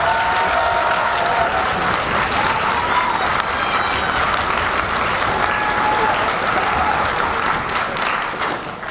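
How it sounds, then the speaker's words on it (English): Audience applause at a spring middle and high school orchestra concert, a dense, sustained wash of clapping from a full hall that stays loud and even throughout, with faint crowd murmur underneath. "Give a round of applause for their hard work."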